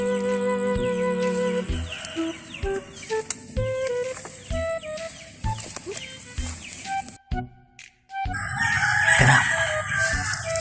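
A rooster crows several times in a barnyard, each call a loud harmonic cock-a-doodle-doo, mixed with clucking fowl and brief bursts of other noise.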